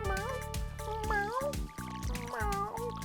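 A person imitates a cat's gentle meows, giving several soft, rising and falling vocal mews in quick succession, close and clear.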